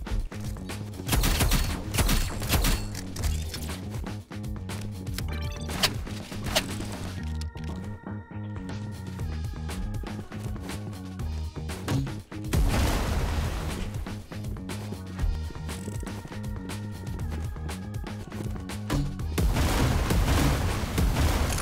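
Grenade launcher explosions in the Roblox game Rivals, repeated booming blasts and rapid gunfire bursts layered over continuous game music and effects, loud and dense throughout.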